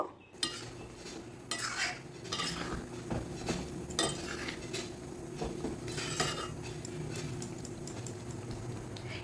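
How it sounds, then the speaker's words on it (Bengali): Pre-fried vegetables being stirred into cooked dal in a pot, with repeated metal spoon clanks and scrapes against the pot over a soft bubbling, faint sizzle, close and clear. "এখন এর মধ্যে দিয়ে দেব আগে থেকে ভেজে রাখা সবজিগুলো ভালো করে ডালের সাথে মিশিয়ে নেব"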